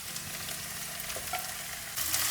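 Onions frying after ginger and garlic in a pan for crab roast, a steady close sizzle with light stirring scrapes, growing a little louder near the end, with no voices.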